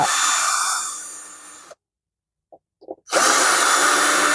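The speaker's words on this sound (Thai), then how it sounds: "ใช้สว่านไฟฟ้า" A power drill driving screws whirs loudly, winds down and stops, then after a pause and a few small clicks it starts up again at full speed.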